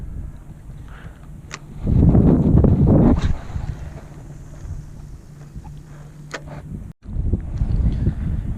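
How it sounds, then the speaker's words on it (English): Outdoor scene on the water at Corpus Christi, Texas, on the Fourth of July: steady wind buffeting and the low rumble of many boat motors, one louder surge passing near before easing back. "Fourth of July, ton of boats around us."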